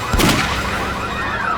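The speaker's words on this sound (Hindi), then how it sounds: "किसने गोली चलाई?" A single loud gunshot in a crime drama scene cracks out near the start, then leaves a ringing, reverberant tail that fades through the rest with no voices over it.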